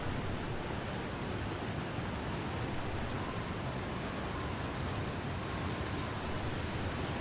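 Steady broadband wind rush in the snowy wilderness survival game The Long Dark, a continuous loud hiss with no gusts or breaks, heard alone.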